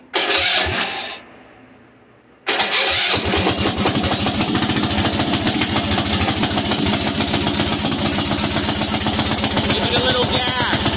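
A brand-new-carb Duromax 440cc engine on a Pathfinder cranks briefly, drops quiet for about a second, then fires and runs steadily with a loud, continuous chugging roar through to the end.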